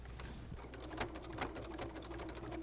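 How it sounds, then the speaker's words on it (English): A sewing machine stitches along the edge of an applique on a quilted wall hanging, running in a fast, even mechanical chatter with rhythmic needle taps, fairly quiet and close. "I'm sewing right on the edge of the applique stitch"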